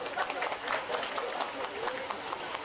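Crowd applause at a football league closing ceremony, a moderate wash of clapping with rhythmic accents, heard under and alongside an announcer's amplified voice.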